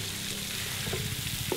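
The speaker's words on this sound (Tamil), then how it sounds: "இந்த முட்டை வறுக்க வறுக்க" Eggs fry in masala in a hot pan, a steady close sizzle and crackle with faint stirring scrapes underneath, continuous throughout.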